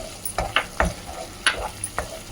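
Mutton liver curry with fresh coriander sizzles softly in a pan as a spoon stirs it, scraping in a handful of distinct strokes over a quiet, steady frying hiss.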